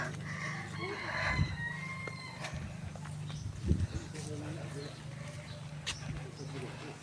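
A rooster crows in the distance over a steady low hum, with people talking nearby and scattered rural background sounds.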